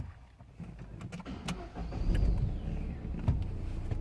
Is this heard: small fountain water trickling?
no